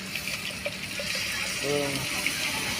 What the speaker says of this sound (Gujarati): પાણી નાખી દે છે